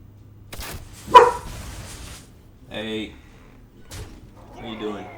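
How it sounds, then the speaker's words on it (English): A dog barks indoors in two short, separate bursts with a sharp thump in between, close and fairly loud against an otherwise quiet room. "No barking."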